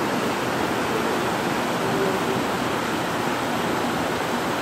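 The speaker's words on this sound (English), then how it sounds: "Try to get the other side and show you guys the waterfall." A waterfall roars steadily and loudly outdoors, a dense, unbroken rush of falling water filling the whole clip.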